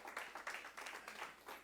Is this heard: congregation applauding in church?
yes